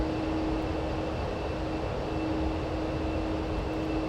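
Steady, loud jet roar from the engines of an Avro Vulcan Mk2 bomber climbing at full thrust, a broad continuous rumble with a constant tonal hum running throughout, no variation or talk.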